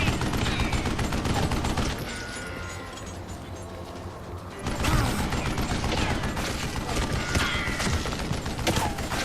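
Rapid gunfire from the Wild West shooter Call of Juarez: Gunslinger, loud and dense volleys of shots and mechanical clatter that pause briefly before resuming in a sustained barrage.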